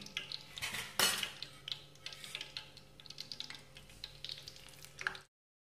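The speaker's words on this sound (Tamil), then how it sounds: "எண்ணெய் நல்லா சூடானதும் பூரியே போட்டு பொரிச்சுக்கோங்க" Poori frying in hot oil, heard as a soft bubbling hiss beneath frequent clinks and scrapes of a metal ladle against the pan, close and busy, ending abruptly in silence.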